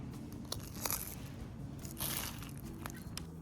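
Crisp crunches from biting into a flaky croissant pastry, two or three brittle crackles over a low background hum, close and fairly quiet.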